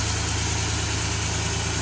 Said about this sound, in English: This engine's pulling 350 horses.